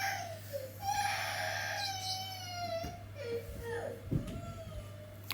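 A baby cries and screams with high, wavering wails that rise and break into shorter whimpers, fairly faint indoors over a steady low hum, with no talk.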